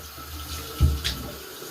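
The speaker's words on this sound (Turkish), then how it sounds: "Su akıyor." Water runs steadily from a tap with a soft continuous hiss, broken by a brief splash as the flow shifts, and no talking.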